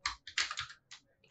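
A computer keyboard clacks in a handful of close, quick key presses, including Enter, each a sharp separate tap.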